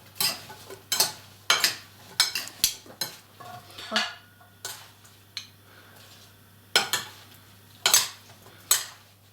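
A spoon stirs apple crumble filling in a bowl, giving a string of sharp, close clinks and scrapes against the bowl in an irregular rhythm with quiet gaps between strokes.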